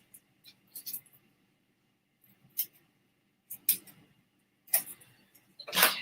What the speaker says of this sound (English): I'm just going to use my scissors to cut them into my smaller pieces